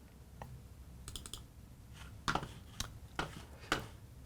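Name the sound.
mouse click launching Terminal on macOS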